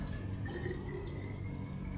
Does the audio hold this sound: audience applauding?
no